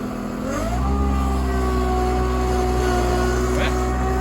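A 72-inch diesel mower with diff lock drives on a hot day with its cutting deck lowered, the engine droning loud and close, rising in pitch as it takes load, with a faint voice.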